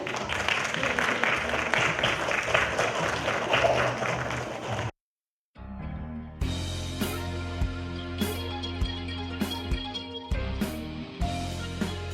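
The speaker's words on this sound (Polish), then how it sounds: "Brawa dla wszystkich." Audience at an art contest award ceremony applauding the winners called to the stage, a sustained crowd clapping that stops abruptly, followed by a pause and then upbeat music with rhythmic accents.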